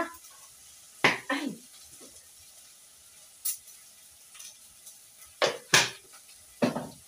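Meat is stirred in a pot with a few separate clinks and scrapes of a utensil against the metal, close and fairly loud against a quiet background, while a voice briefly speaks.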